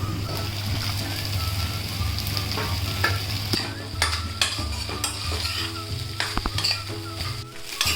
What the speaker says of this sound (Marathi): भात आता परतून घेते